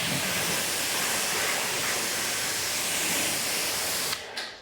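A car being rinsed down with a hose to flush away wash froth: a steady, loud rush of spraying water over the bodywork that cuts off abruptly near the end.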